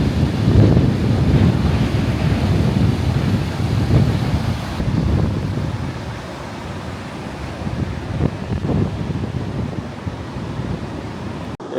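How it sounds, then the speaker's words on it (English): Strong gusty wind buffets the microphone at the beach while surf rumbles and rolls beneath it, loud and continuous throughout with no voices. "It's quite windy at the moment"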